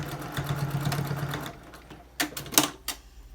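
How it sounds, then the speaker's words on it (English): A sewing machine stitching down the top edge of a fabric face mask, running in a steady mechanical whir for about a second and a half, then a few sharp clicks and knocks. "This top's not sewed down so much, so I'm going to sew that up down a little bit more."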